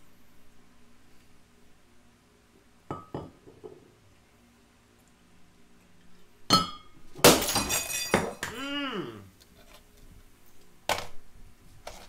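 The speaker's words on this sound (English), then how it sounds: "Agrippa just broke a glass" Glass breaks in a house with a sharp crash followed by scattered clinks and tinkling shards, then quieter knocks, set against near silence.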